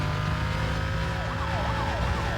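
Police sirens wail in the Need for Speed Most Wanted racing game, several rising and falling tones layered over a loud, constant car engine roar, with no talk.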